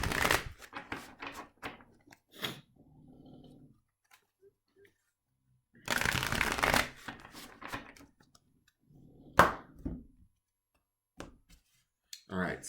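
Tarot cards are shuffled in several quick, riffling bursts of papery snapping and sliding, close and fairly loud, with a quieter stretch of softer card handling between them and no talk over it.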